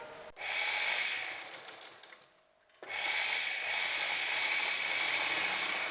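A sewing machine stitches fabric for a kurti, running in a steady close whirring drone, stopping briefly and then starting up again at the same pace.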